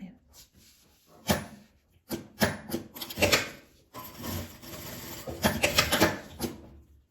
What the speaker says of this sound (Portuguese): E vou costurando dessa forma.